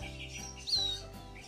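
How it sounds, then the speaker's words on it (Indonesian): A faint, thin chirp rises briefly over a quiet background, a single small mountain prinia chick calling close by. "ini dia anakan burung ciblek gunung"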